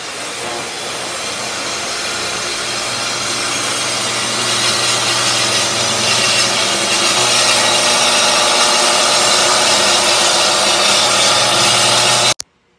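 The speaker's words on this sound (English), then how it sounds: "I set up my track saw on this side and I will cut right down this seam here to make sure everything butts up" A track saw rips along the breadboard seam of a wooden tabletop in one continuous, loud, steady cut, whining and rasping for about twelve seconds before stopping abruptly.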